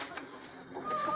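Village hens give a few brief, faint clucks alone.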